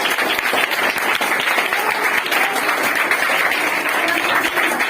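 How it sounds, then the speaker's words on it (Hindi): People applaud a child after an hour-long no-blinking challenge, loud continuous clapping from a small crowd, close and steady for the whole stretch. "ताली बजाओ बच्चे, ताली बजाओ"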